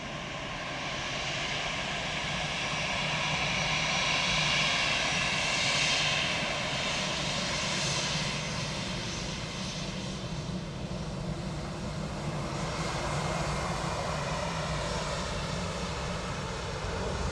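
An aircraft lands on runway 28 left at Dublin Airport, its engines a loud steady roar that swells and holds for many seconds with no talk over it.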